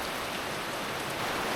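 Steady heavy rain pours down at Copperlode Dam near Cairns, a dense, even hiss of drops with no talking and no breaks.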